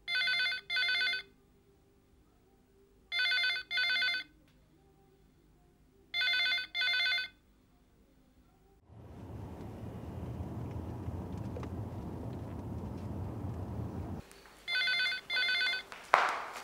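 A telephone rings in repeated double bursts, loud and close, broken by a stretch of rumbling vehicle noise before the ringing resumes; nobody speaks.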